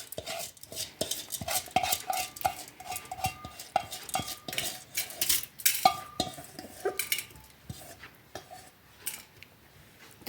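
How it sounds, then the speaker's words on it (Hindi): Washed rice goes into a metal pressure cooker in a home kitchen, producing scattered clinks, rattles and scraping knocks of grains and utensil against metal, close and moderately quiet, with no talking. "प्रेशर कुकर में ही इसे हमें अच्छे से कुक करना है। चावल अपने धुले हुए डाल दीजिए इसमें।"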